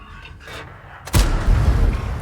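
A tank cannon fires in a video game: one loud, close boom strikes suddenly and leaves a heavy rumbling tail, with a fainter muffled thump just before it.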